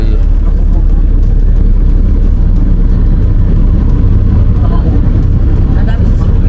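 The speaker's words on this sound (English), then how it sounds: "It's not a train, it's a bus." Steady low engine roar of a public bus moving through a Canadian city, loud and close from inside the cabin, with soft rattles and a voice chatting underneath.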